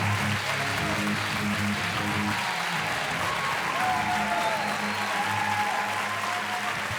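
Audience at a stand-up comedy show applauds in a steady, dense wash of clapping that holds for several seconds, loud and close.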